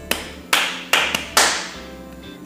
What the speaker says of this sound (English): Try clapping out a rhythm like this.